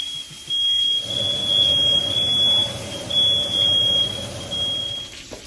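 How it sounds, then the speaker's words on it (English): A smoke alarm set off by frying in a kitchen beeps in a high, piercing, repeating pattern over a steady low hum, with short pauses between bursts. "we were setting up the fire alarm, and we just did it again"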